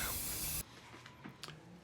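Spray paint hisses loudly and steadily onto a Squier Bullet Strat guitar body for about half a second, then cuts off, leaving quiet room noise with a few faint clicks.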